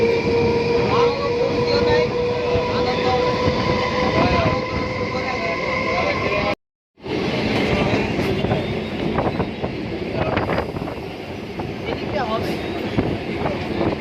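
A Kolkata suburban train running between Bidhannagar and Dum Dum Junction, with a loud continuous rumble, steady rail noise and clacking, a brief dropout midway, and people talking over it nearby.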